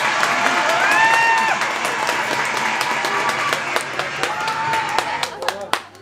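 An audience at a Turkmen wedding in Istanbul breaks into dense applause and clapping with some cheering, loud at first and thinning toward the end, while voices talk over it.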